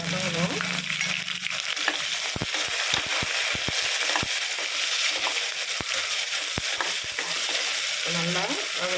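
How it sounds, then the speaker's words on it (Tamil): Onions sauté in hot oil for a green pea dish, a constant bright sizzle under repeated sharp clicks of a spoon stirring against the pan. "இப்போ நல்லா வெங்காயம் நல்லா வதங்கணும்."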